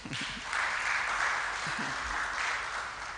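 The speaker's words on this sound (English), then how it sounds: "we need a clap for that" Applause from the audience at a university inaugural lecture, a broad wash of clapping that swells and holds steady, with a brief voice at the start and another moment of speech partway through.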